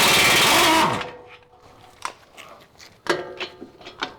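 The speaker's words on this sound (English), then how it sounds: "using an impact gun with an extension is highly not recommended." An impact gun hammers loudly on brake caliper bracket bolts of a 2009-2015 Honda Pilot in a brief opening burst, then fades into scattered sharp metallic clicks and knocks close by.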